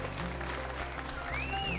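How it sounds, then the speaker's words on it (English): A live radio show audience claps in a soft, continuous wash of applause heard from a distance, fairly quiet and even throughout, with no talking over it. "Give yourselves a round of applause."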